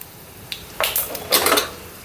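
Two spoonfuls of mustard seeds, along with a few fenugreek seeds, hit hot oil in a pan while a mango pickle is made. Short clinks of a spoon against metal give way to bursts of sizzling and crackling, close by, with no talking.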